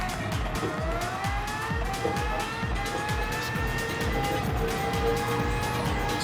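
A McLaren Vision GT race car in a racing video game drives hard with a steady, loud engine roar, rising gear-change sweeps and brief tire squeals throughout.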